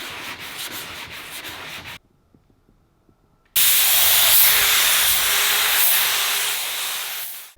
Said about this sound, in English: Guide coat, sand with 400, finish with 800